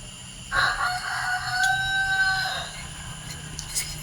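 A rooster crows loudly nearby outside before dawn, one long drawn-out call, against steady background noise with a faint second crow in the distance.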